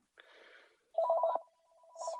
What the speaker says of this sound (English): Damn phone.